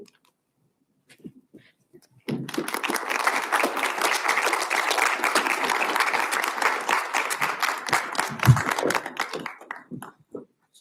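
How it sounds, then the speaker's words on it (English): After a talk, an audience breaks into applause that starts abruptly after a quiet moment, holds steady as dense clapping for several seconds, then tapers off toward the end. "Give another round of applause for Janet."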